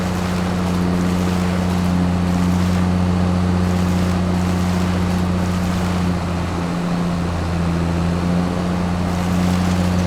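A steady, loud, droning tractor engine hums throughout while pushing over a tree in Farming Simulator 22, with a constant low rumble and no talk.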